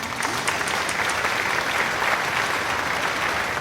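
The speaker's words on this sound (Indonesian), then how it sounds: "Berikan tepukan hangat untuk Kakak Rusma." Warm applause for a guest on a small podcast set, a steady patter of many hands clapping, moderately loud and continuous with no talk over it.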